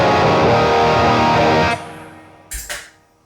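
Electric guitar driven through a Minotaur overdrive pedal into a Deluxe 112 cabinet rings out loud and sustained with a thick overdriven tone, then is cut off and fades, followed by two short picked notes.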